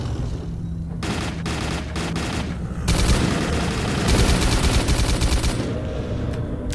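Heavy gunfire in the video game S.T.A.L.K.E.R.: Call of Pripyat during a night fight, with rapid automatic bursts and scattered shots that build into a dense, loud fusillade lasting several seconds.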